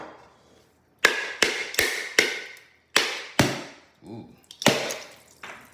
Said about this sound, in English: This is why I'm using it to crack open my coconut.